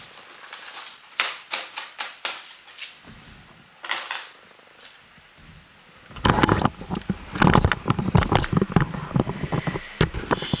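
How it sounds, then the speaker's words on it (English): Paper is handled and put away with a scatter of light crinkles and taps at first, then a denser burst of rustling and shuffling close by, with no talking. "Let's put this paper away."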